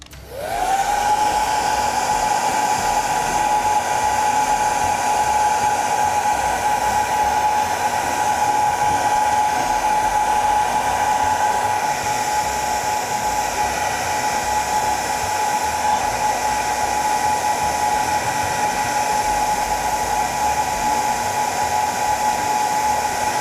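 A hair dryer blows steadily and loudly to dry a repair application on torn leather, a constant whining hum running unbroken from start to finish with no voices.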